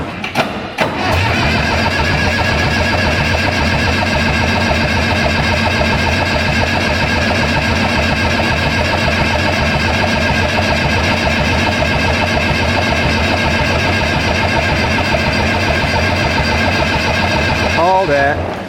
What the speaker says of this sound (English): Let's crank it a few more times.